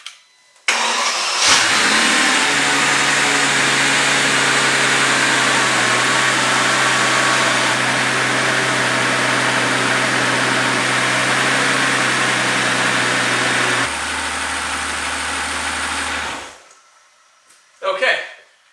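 A Mercedes CL65 AMG cranks and fires up, settling into a loud, steady near idle with a strong low hum that drops in pitch partway through before cutting off, followed by a brief clunk.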